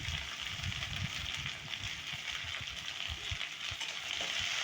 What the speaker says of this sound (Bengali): এখন আমি এর ভিতরে ভেন্ডিগুলো দিয়ে দিচ্ছি